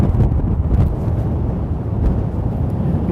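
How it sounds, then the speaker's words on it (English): Strong wind buffets the microphone outdoors on a New York City street, loud rumbling gusts that swell and ease in uneven surges without a break. "it's super windy"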